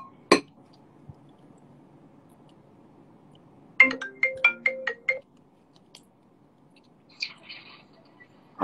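A phone ringtone plays a quick melodic run of bright tones, with a short second burst after a pause and a sharp clink at the start, against a quiet room.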